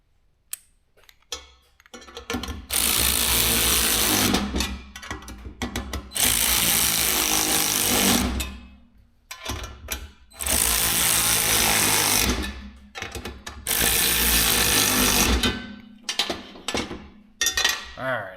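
A power tool bolts parts onto a mini Jeep in several loud, sustained rattling bursts, each lasting a few seconds, with short gaps of clanks and handling noise between them.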